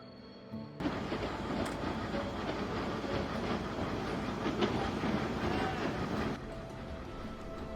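Steam train rolling past photographers on a heritage line near Tournon, France, a steady, loud rumble of wheels and carriages building abruptly and holding for several seconds before easing off.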